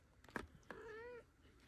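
A cat meows at close range, first with a couple of short clicks and chirps, then one drawn-out, clear meow, and then goes quiet, with no talking.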